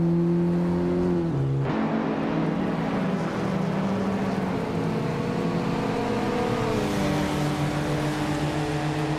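Race cars at speed in a nonstop racing event, several engines droning together with shifting pitch as they jostle and overtake, loud and continuous throughout.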